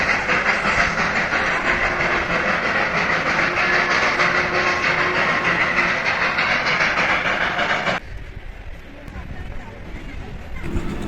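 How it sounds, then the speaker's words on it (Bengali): The Darjeeling toy train hisses and clatters steadily in the distance as it passes near Ghum Monastery, then the sound drops away abruptly, leaving quieter background with faint voices. "ওই দেখুন দূরে টয় ট্রেন যাচ্ছে।"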